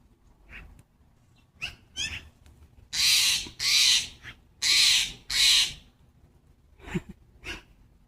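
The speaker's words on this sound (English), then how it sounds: "Yeah, that's a Steller's jay." A Steller's jay gives four loud, harsh squawking calls in quick succession outdoors, with quieter rustling and faint background sounds before and after.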